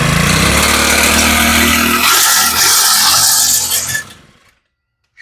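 A Shindaiwa string trimmer engine runs loud and steady on a workbench after starting, a harsh two-stroke buzz holding for about four seconds before cutting out abruptly into silence.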